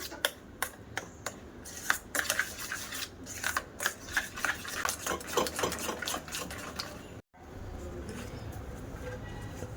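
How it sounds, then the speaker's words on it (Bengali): Powdered biscuit is mixed with milk in a bowl for soft no-oven bread, heard as quick rhythmic scraping strokes that stop abruptly, followed by quiet room tone. "এবার আমি দুধ দিয়ে বিস্কুটের গুঁড়োটা মিশিয়ে নেব।"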